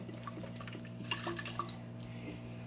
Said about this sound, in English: you can see it's rinsing down through the straw